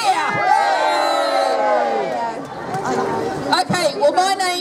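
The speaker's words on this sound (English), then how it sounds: "another cheer for that one. Go on, cheer!" A crowd at a London protest cheers and shouts loudly and continuously, with high children's-style yells rising over the roar and brief whoops near the end.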